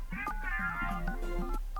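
A quick run of telephone keypad tones, short beeps in succession over a low steady hum.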